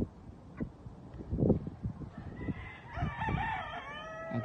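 A Kelso rooster crowing in a farm pen among ten Cowan hens, with soft clucks and scratchy shuffling first, then a drawn-out crow near the end, fairly faint and close.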